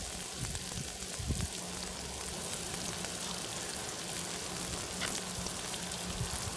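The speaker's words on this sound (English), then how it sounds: "Lightly fry the brioche buns." Brioche buns lightly frying on a hot plate beside burger patties, a faint, steady sizzle with soft crackles running throughout, quiet and close.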